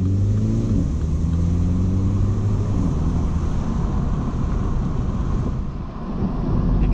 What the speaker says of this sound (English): The acceleration of this car is immense as well